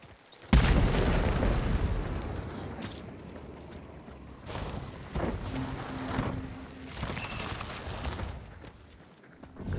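A barrel shot in Hunt: Showdown blows up with a loud, sudden boom, followed by a rumbling decay and a few smaller bursts and thuds further off.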